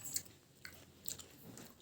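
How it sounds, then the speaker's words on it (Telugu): Soft, close chewing and biting on Ugadi pachadi, with a few faint moist crunches and squishes over a quiet background. "ఇక్కడైతే ఉగాది పచ్చడి తింటున్నామండి"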